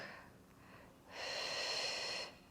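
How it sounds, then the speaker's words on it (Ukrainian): A slow breath in and out during a cortisol-lowering breathing exercise, a soft inhale followed by a longer, louder airy exhale, close and alone. "Вдих видих і заключний. Вдих."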